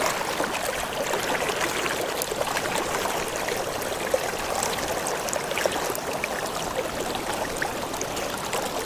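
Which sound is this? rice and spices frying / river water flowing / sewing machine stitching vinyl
river water flowing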